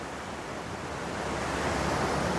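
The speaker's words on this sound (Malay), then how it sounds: "Ni keadaan sungai." A swollen, muddy river running high and tea-coloured after heavy rain at a campsite, heard as a steady, loud broadband rush of flowing water that holds constant without a break.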